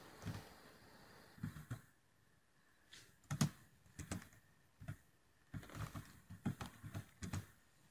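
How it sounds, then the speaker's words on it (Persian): Computer keyboard typing in bursts of quick key clicks, close and fairly quiet, with short pauses between runs of keystrokes. "یه متن رو در این صفحه تایپ می‌کنم."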